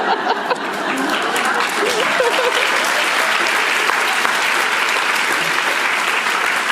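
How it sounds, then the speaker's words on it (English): Applause from a large convention audience, a thick steady roar of clapping with scattered laughter and voices underneath. "I was just clapping for it"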